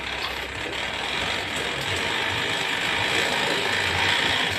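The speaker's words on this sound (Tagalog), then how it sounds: "Bilis ang kadena mo dyan." A steady, fast mechanical whirring and ratcheting clatter of a big-bike motorcycle chain spinning rapidly on its sprocket, continuous and close with no voices.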